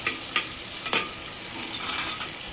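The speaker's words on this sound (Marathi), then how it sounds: "आणि आता आपण कांदा सगळं ब्राऊन होतो पण चांगलं त्याला फ्राय करून घ्यायचं।" Onion and curry leaves fry in hot oil for a Maharashtrian matki usal, giving a steady close sizzle broken by a few sharp scraping stirs.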